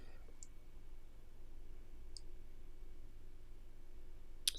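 A computer mouse clicks faintly a few times, sparse single clicks spread out over quiet room noise, the last one sharper and louder.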